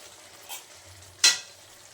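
Pointed gourd with poppy seeds is stirred in a pan, giving a faint soft scrape and then one sharp, brief sizzling clink of the spoon against the pan.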